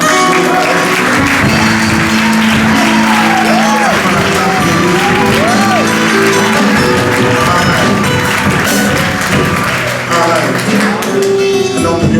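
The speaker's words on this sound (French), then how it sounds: "Le pasteur Vianney, j'aimerais qu'on l'acclame." A church conference audience applauds and cheers a pastor, with loud, continuous clapping and scattered shouts mixed with a voice and music-like tones over about twelve seconds.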